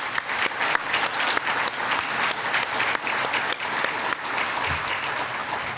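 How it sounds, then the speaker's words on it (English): An audience at an honorary celebration event gives a round of applause, crisp dense clapping that holds steady for several seconds with a few louder individual claps near the start, close and alone without talk. "Everybody could join me in a round of applause."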